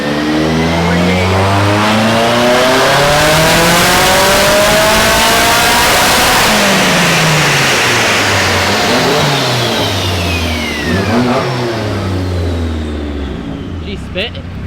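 A car engine revs hard under boost on a dyno, sounding loud and raspy. The pitch sweeps up and down through sustained pulls, with a drop near the end.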